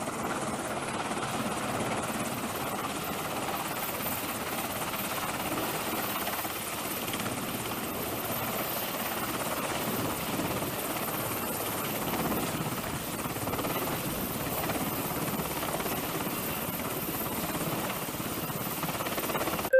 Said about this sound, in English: we'll hear the helicopter coming in